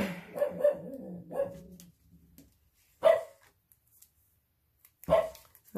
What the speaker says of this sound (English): so there's Frank the dog